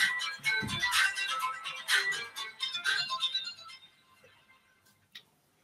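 A mobile phone ringtone plays during a televised Algerian political discussion, a bright melodic electronic tune in several bursts that fades out after about four seconds, followed by one short faint blip.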